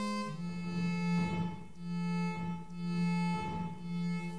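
A Mixtur-Trautonium, the electronic instrument, plays sustained tones with very little reverb, a steady low note swelling and fading in roughly three long pulses, bright and close, with no voices.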